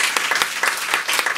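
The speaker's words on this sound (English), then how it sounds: "can we really give it up for our sound man tonight, Charlie?" An audience at a small listening-room music venue applauds, giving steady, close clapping that fills the whole moment.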